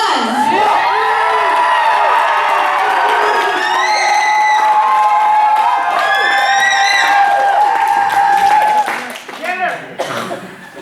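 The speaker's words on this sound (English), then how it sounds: "you're going to scream really, really loud if you want them to win" A loud crowd at a live adult dating-game comedy show screams and cheers continuously, high-pitched shrieks and whoops rising together, then fading into scattered shouts.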